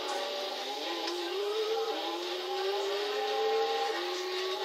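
A Peugeot 106 Rally engine in the video game Gran Turismo 6 drones with a steady, slowly rising tone as it accelerates, with a brief dip partway through, loud and constant with no talk.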